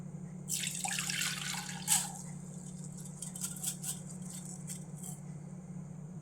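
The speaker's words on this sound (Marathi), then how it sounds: "आता याचं पूर्ण पाणी काढून घेऊया" Water splashes and trickles for a couple of seconds as it drains from soaked rice, then thins to scattered drips, all fairly quiet over a low steady hum.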